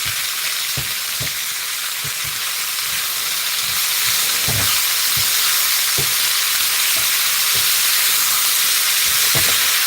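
Potatoes and onions fry steadily in butter in a pan, a continuous close sizzle and hiss with occasional stirring knocks and pops throughout, no talking.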